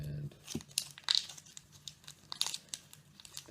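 A plastic Ziploc-style bag holding a Montegrappa NeroUno fountain pen crinkles up close in short, sharp bursts as it is handled, while a voice talks quietly between the rustles.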